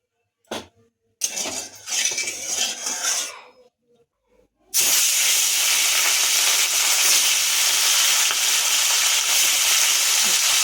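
Loud, steady sizzling of rohu fish frying in mustard oil in a kadai erupts after a few seconds of scraping and clatter, continuing close and unbroken to the end.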